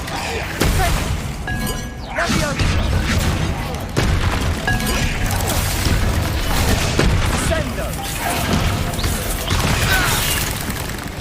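Confringo blasting-spell explosions from a Harry Potter video game on PS5 go off as a series of loud booms with crashing, shattering debris, each burst rolling into the next with a voice heard between.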